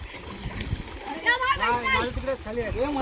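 Water splashes and churns as people bathe in a river in Dapoli, Konkan, during hot weather, with children's voices shouting and talking over the steady splashing close by.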